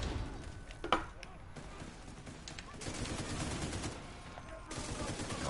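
Automated turret firing rapid bursts in The Division 2, a steady run of gunfire under background game noise with one sharper crack near the start.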